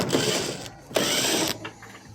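Quarter-inch screws being backed out of the rear panel of a clothes dryer with a tool, giving two bursts of close, steady mechanical whirring and ratcheting, each under a second, then a short, quieter rattle.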